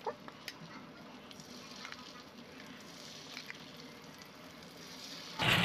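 Chicken pieces frying in hot oil in a pan over a low flame: a steady, soft sizzle runs throughout with a few light pops, ending in a louder burst of spatter.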